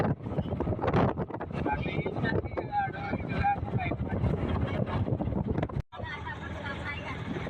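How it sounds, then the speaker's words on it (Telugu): Strong wind roars into a microphone from inside a moving auto rickshaw on the road to a Bonalu festival village. A loud, continuous buffeting rush covers everything. Voices and music can be heard faintly underneath, and there is a brief dropout near the end. "అసలు ఫుల్ గాలి వస్తుంది చూడండి. ఫుల్ సౌండ్ కూడా వస్తున్నది."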